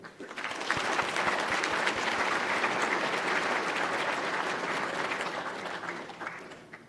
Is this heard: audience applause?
yes